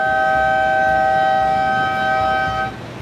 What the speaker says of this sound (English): Sound of the horn and we are on.